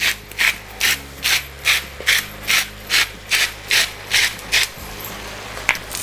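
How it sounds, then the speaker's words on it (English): A salt grinder seasons Swiss chard cooked with seafood, giving about a dozen close, evenly paced gritty ratcheting twists with no one talking. "So I'm going to season with some salt"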